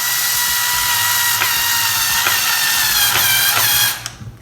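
A power drill drives a screw to fasten a handle, a close, steady high whine lasting about four seconds with slight strain pulses before it cuts off abruptly.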